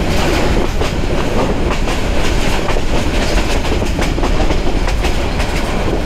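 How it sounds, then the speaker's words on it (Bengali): A local commuter train running fast, loud steady rumble with rhythmic clickety-clack of wheels on rail joints, heard from inside a carriage, with no voices. "ট্রেন কিন্তু ভালোই স্পিড দিচ্ছে এখন।"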